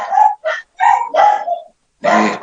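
Several close, loud dog barks and yips come in quick, irregular bursts separated by short silences, with no voices.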